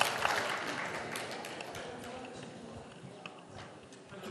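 Audience applause at a Korean cultural forum panel session, a steady patter of many hands clapping in a hall that gradually thins out over a few seconds, with faint talk underneath.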